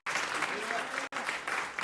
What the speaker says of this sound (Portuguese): Nós vamos dar uma salva de palmas para Jesus, porque Ele merece